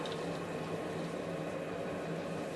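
Garlic frying in oil with cinnamon, fennel, panch phoron, cumin and dried chillies for a Bengali garlic pickle, giving a steady, dense sizzle that holds evenly throughout with no talking.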